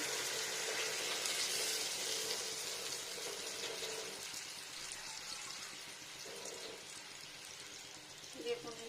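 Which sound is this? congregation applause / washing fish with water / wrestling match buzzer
washing fish with water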